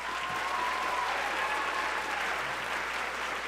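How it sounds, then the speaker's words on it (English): An audience at a high school band concert applauds, a continuous even wash of clapping at moderate volume with a faint whistle-like tone early on. "Give them a round of applause"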